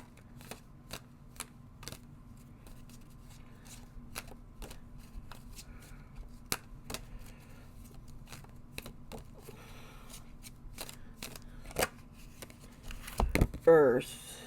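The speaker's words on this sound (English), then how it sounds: "I want to pull up one more card." Tarot cards being shuffled close up: a steady run of crisp, separate snaps and riffles at an irregular pace, ending in a louder flurry of rustling as the deck is handled.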